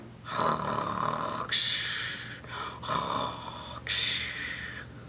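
A voice imitates snoring, with long rasping inhale-exhale snores repeating in a slow rhythm, close and fairly loud.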